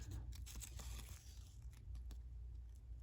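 Scissors snip and slice through paper in quick uneven strokes, with crinkling and a steady low hum in the background.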